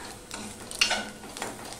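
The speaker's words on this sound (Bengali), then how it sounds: "গ্যাসের ফ্লেমটা কিন্তু আমি লো করে দিয়েই ভাজবো, নাই বেসনটা পুড়ে গেলে স্বাদ হবে না।" Gram flour (besan) mixed with onion frying in a pan over a low gas flame, a soft sizzle with brief scraping stirring strokes, one sharper scrape near the middle, close up and with no talking.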